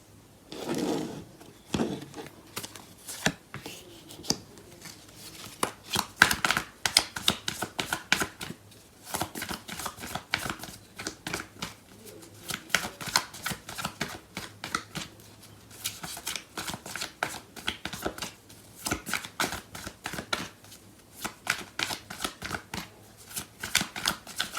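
Tarot cards are shuffled by hand close up in repeated bursts of crisp riffling and slapping, with short pauses between rounds and no voice.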